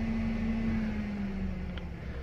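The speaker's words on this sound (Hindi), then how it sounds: "तो फैन का नॉइस आप सुन सकते रहोगे।" A Tata Tigor EV's cooling fan runs steadily while the car is switched off, a continuous hum with a low tonal drone, heard alone and at a constant level.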